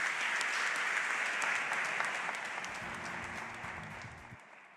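Steady applause fills a hall after the swearing-in of the Chief of Cabinet of Ministers. It is dense and sustained and slowly fades, with a low murmur of voices underneath near the end.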